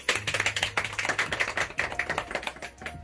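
Family members at an engagement ceremony applauding together, a dense burst of close hand claps held at a steady, lively pace for about three seconds with no voices over it.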